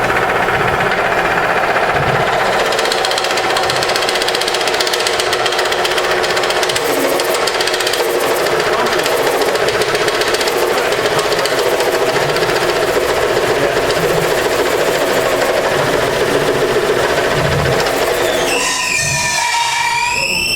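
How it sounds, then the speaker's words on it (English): A wood lathe spins steadily while a bowl is cored, giving a loud, continuous mechanical whir and rumble with scraping cutting noise throughout, shifting near the end as the machine slows. "try slowing the lathe down"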